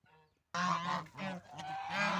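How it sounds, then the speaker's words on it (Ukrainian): Domestic geese at a village farmyard honk loudly and close by in a series of harsh, repeated calls after a brief quiet moment, with no talking. "Гуси так люблять траву, але трави вже мало-мало."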